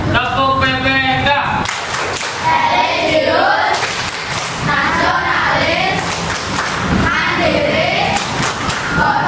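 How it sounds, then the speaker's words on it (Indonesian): A classroom group performs the Tepuk PPK routine, sharp claps landing at intervals while voices chant the words in rhythm, close and fairly loud. "berikutnya kita akan lakukan tepuk dan salam PPK, ya. Tepuk PPK."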